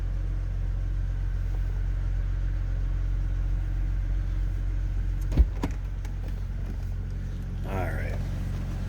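A 2008 BMW Z4 Roadster engine idles steadily with a low, constant rumble, heard from behind the car, and a couple of sharp clicks or thumps cut in about halfway through.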